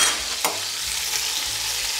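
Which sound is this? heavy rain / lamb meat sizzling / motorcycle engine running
lamb meat sizzling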